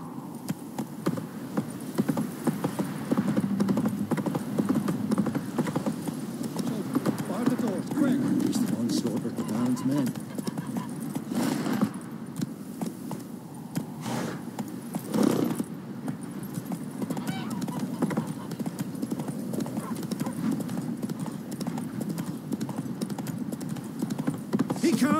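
Roach, Geralt's horse in The Witcher 3, gallops with steady hoofbeat clatter under ongoing game noise and spoken voices throughout.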